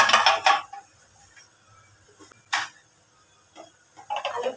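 A knife chops potatoes finely for pav bhaji in a home kitchen, making a few sharp, close taps with quiet gaps between them. A short cluster of cuts comes at the end.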